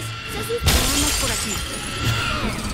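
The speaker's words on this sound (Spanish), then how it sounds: "algunos personajes como la muchacha esta pueden gritar y romper vidrio" A character's scream breaks glass in the LEGO Jurassic World video game, producing a sudden loud shatter with tinkling debris trailing off afterward while a voice talks.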